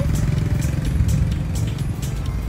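A motorcycle rumbles past at steady volume on a street, its engine drone filling the scene with light clattering on top and no talk.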